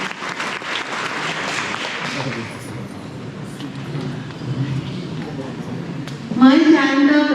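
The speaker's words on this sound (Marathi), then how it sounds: "आपण पुन्हा एकदा आनंदाने टाळ्या वाजवूया." A crowd at a senior citizens' association annual felicitation ceremony in Chulne claps for a few seconds, dense and steady, then the applause thins and a voice takes over near the end.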